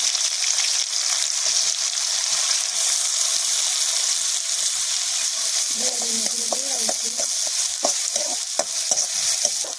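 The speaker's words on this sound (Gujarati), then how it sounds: "તેલ આવી ગયું છે તો નાખી દઈશું જીરું, નાખી દઈશું ડુંગળી" Cumin and onion frying in hot oil for a Gujarati ringan no olo, a steady loud sizzle with stirring scrapes and light clinks of a utensil against the pan.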